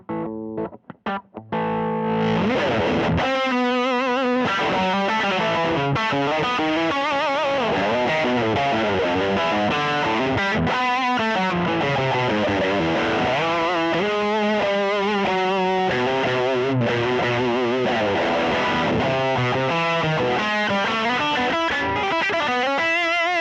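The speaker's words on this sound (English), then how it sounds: "This is a real distortion pedal with a real 12AX7 running at a real 220 volts." Heavily distorted electric guitar through a Friedman Motor City Drive tube distortion pedal with a 12AX7 tube plays a continuous riff with sustained, crunchy chords and melodic runs, loud and saturated, after a few brief opening notes.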